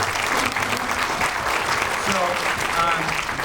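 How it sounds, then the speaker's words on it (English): An audience at a film Q&A for Boone: The Bounty Hunter gives a round of applause, a steady wash of many hands clapping together at moderate loudness for the full few seconds. "Round of applause for her"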